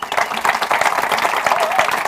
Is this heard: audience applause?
yes